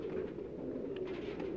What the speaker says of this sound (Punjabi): ਮਾਸ਼ਾਅੱਲਾ ਰਾਣਾ ਸਾਹਿਬ ਦੇ ਬੜੇ ਅੱਛੇ ਕਬੂਤਰ ਨੇ